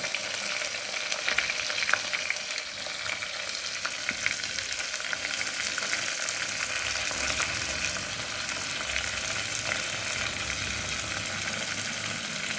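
Chopped onions frying in a pan as the base for a fish curry, a continuous close sizzle with faint stirring, steady throughout and no voices.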